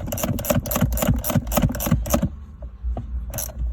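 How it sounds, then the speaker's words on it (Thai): A 12 mm wrench ratchets in a rapid, even series of close clicks while tightening a bolt on a Toyota Fortuner gear cable, then pauses and gives a brief final burst. "แล้วก็ใช้เบอร์ 12 ไข กลับเข้าไปเหมือนเดิมนะครับ"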